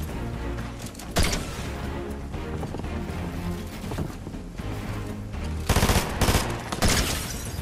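Auto shotgun fired in a console ranked shooter game, a steady run of rapid blasts close up, with heavier bursts of shots near the end over a busy game soundscape.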